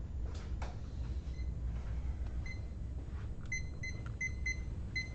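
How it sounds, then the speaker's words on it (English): Electronic kitchen timer being set, emitting a series of short, high-pitched beeps in quick clusters over steady low background hum, with no talking. "Oh, I should put on a timer."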